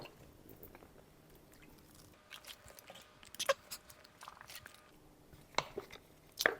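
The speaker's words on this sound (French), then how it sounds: "Bon, faut que je croque." A person bites down on a large dietary supplement tablet and chews it, making a few sharp, close crunches and soft squishy chewing noises, scattered across a quiet background.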